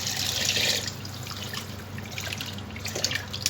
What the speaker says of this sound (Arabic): سأضيف المي